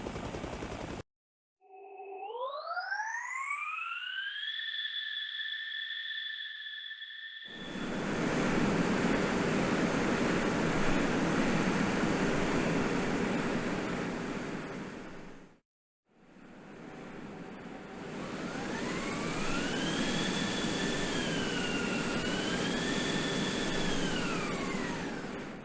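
Layered helicopter engine sounds from the video game Arma Reforger: rising whistling tones build over a roar of broadband noise, cut off, then return with tones wavering up and down above a steady rush.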